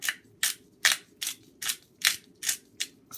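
A pepper grinder cracking pepper over a vegetarian cheesy vegetable cottage pie: eight sharp, evenly spaced gritty crunching bursts, close and fairly quiet, with no talk.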